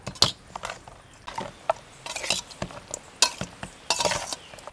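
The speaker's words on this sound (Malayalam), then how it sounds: "ഇനി നമ്മൾ നല്ല പോലെ മിക്സ് ചെയ്യാണ് ഇട്ടത്" Chicken pieces mixed by hand with lemon juice and salt, giving close, irregular wet squelches and soft clicks in a short run, with no talk over them.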